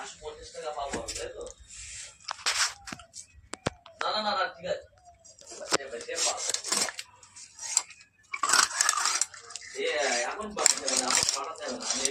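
A large boal fish, full of oil, being cut into pieces with a metal blade: repeated clanking, scraping knife-and-pan clatter close by, interrupted by stretches of a person talking.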